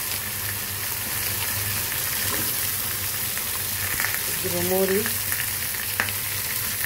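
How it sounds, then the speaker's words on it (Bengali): Fish belly pieces and chili frying in hot oil, giving a steady close sizzle and crackle with occasional stirring sounds and a brief scrape of utensil against the pan, no voices. "মাছের পেডি ভেজে নিব।"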